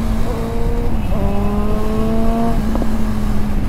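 A superbike on a road revs hard, the engine tone rising and holding in a loud, close whine, with a couple of sharp exhaust pops near the end.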